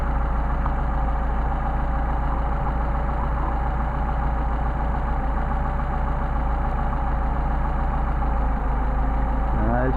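A Mercedes 190SL engine idles steadily during Solex carburetor adjustment, with a deep, continuous rumble and rapid knocking pulses, heard up close throughout.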